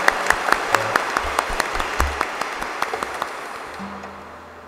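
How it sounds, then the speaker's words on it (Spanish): Applause during a live-streamed Catholic Mass in church, a steady patter of many hands clapping, fairly loud and roomy, then thinning and fading out toward the end as a low tone comes in. "Para ellas un fuerte aplauso"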